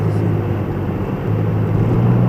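A Porsche 911 with a 3.4-litre six-cylinder engine driving, heard from inside as a steady loud low engine drone and road rumble with no break.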